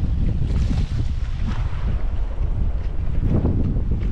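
Strong wind blasts across a shoreline fishing spot, a loud, constant roar of gusts against the microphone with water noise underneath and no talking.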